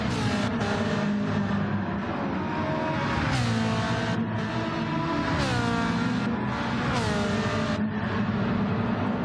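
Race cars in a GT racing video game scream down a straight, their engines droning loudly and continuously as they rise and fall through gear changes, with several cars overlapping close together.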